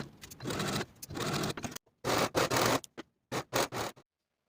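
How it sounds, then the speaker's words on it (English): A sewing machine stitches the shoulder seams of a dress in several bursts of rapid mechanical whirring, close and fairly loud, separated by brief pauses and then falling silent at the end. "sew your shoulder seams with a 3/8 inch seam allowance"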